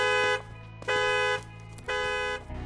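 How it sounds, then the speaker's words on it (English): A car alarm blares in the video game Hello Neighbor Reborn, sounding in three loud, steady electronic honks of roughly half a second each, with short gaps between them and a low rumble underneath. "to the car alarm going off just like in the dev game animation."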